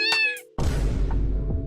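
A pet cat gives a short, clear meow, followed by a brief low rumble and muffled movement. The sound is close and fairly loud.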